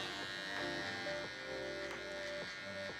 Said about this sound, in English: grabbing my cordless detailer